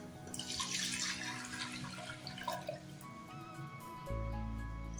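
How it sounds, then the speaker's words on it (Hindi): Milk is poured into a pan of fried vermicelli, a soft splashing trickle that runs for several seconds before giving way to a steadier low hiss, faint and close, with no talk. "अब मैं इसमें दूध डालने लगी हूँ।"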